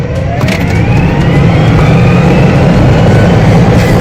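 A car engine revved at full throttle, a loud, continuous roar held steady for about four seconds with rising whine overtones and no talking.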